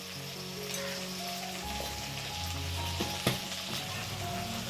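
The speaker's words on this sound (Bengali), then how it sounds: "এবারে মশলাটাকে ভালো করে কষে নিতে হবে।" Spice paste with turmeric powder fries in a pan, a loud steady sizzle like rain on a surface, with a few clinks and scrapes of stirring and a sharp knock near the end.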